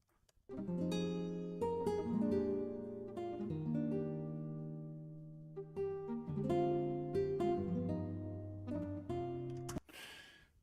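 Sustained chords ring out alone, moving through a short ii-V progression of held voicings with a soft attack, ending in a brief noisy burst.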